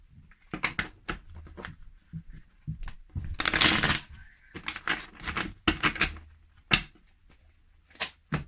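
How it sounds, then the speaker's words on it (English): Several crisp bursts of cards being riffled and shuffled, close up, with brief pauses between shuffles. "I'm just going to shuffle the deck and get things going"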